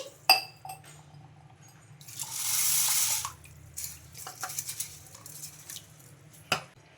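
Water swishes and pours in a bowl as ragi grain is washed, with a surge of rushing water midway and a few light clinks of a container.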